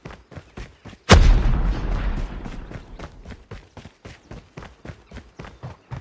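Rapid MG42 machine gun fire in Call of Duty Mobile: a fast, steady stream of sharp shots over six seconds, broken by one heavy booming blast near the start.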